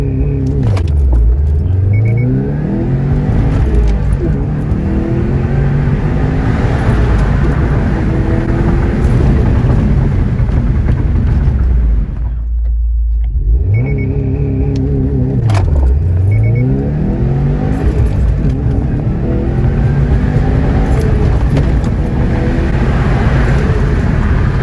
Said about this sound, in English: we're just gonna launch it and see what the 0 to 60 is on the stock STI